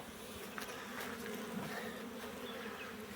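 Dense, steady buzzing of many honeybees close by at a hive, a continuous drone with individual insects passing near. No voices.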